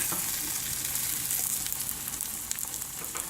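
Eggs and potatoes sizzle and crackle steadily in a frying pan, a dense continuous fry with a few soft scrapes as they are flipped, close and loud with no talking.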